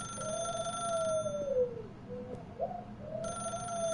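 A telephone rings in The Stanley Parable video game, a steady electronic trill with repeated bursts, fairly loud and alone.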